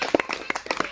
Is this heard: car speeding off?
no